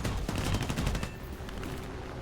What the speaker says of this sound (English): So nice to be shooting that cannon at somebody else and not being shot at me.